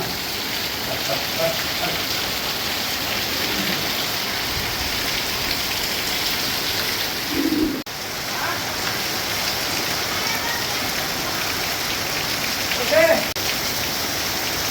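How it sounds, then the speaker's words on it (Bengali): Steady rain pours on surfaces around a rural homestead on a wet monsoon afternoon, an even, dense hiss throughout with a couple of faint bumps. "এগুলো দেখতে পাচ্ছেন বৃষ্টির মধ্যে ঘুরতেছি"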